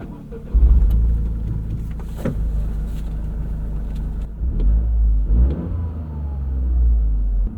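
A 2025 Toyota GR Corolla pulling away on the road, its engine rumbling low and close inside the cabin as it accelerates, swelling and easing through the gears with no talking.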